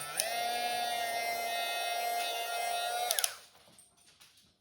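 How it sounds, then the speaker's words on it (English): A drill whines as it bores a hole in an earring piece indoors, while the part heats up. There is a steady high-pitched whir for about three seconds, then a few clicks, and then it winds down to quiet. "I'm just being a little cautious because I am drilling inside"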